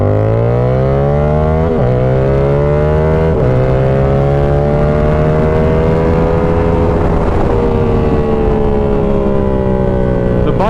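A Yamaha R7 sport bike ridden without a quick shifter, its engine loud and close as it revs up through the gears with distinct pauses and drops in pitch at each manual shift.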